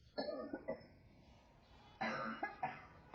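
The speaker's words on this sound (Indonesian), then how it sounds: "Batuk ini sangat serius." Two bursts of coughing, a short pair early on, then a harsher cluster of three coughs after a quiet pause, close and fairly faint.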